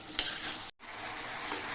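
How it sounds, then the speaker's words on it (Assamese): Meat with spices fries over a high flame, a continuous close sizzle with stirring scrapes, a brief cut-out midway, then the bubbling hiss carrying on at a moderate level. "মছলাখিনিৰ লগত মই মাংসখিনি ধুনীয়াকৈ হাই ফ্লেমত ভাজি ল'ম"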